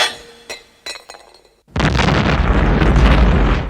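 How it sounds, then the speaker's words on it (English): A loud Looney Tunes-style explosion from the 1989 Batman film as the Axis Chemicals plant is blown up, a sudden massive roaring blast that follows a few faint clinks and thuds and rumbles on without letting up. "Batman heads to Access Chemicals to blow them sky high"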